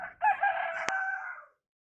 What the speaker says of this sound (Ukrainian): А, це мій півник.